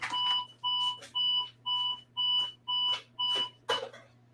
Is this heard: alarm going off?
yes